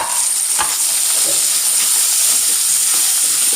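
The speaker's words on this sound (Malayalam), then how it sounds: "സബോളയും വെളുത്തുള്ളിയും കൂടി ഇട്ട് നല്ലോണം വഴറ്റിയെടുക്കാം." Okra, onion and garlic sauté in a hot pan, sending out a loud, steady hiss with a brief scrape of stirring near the start and no speech.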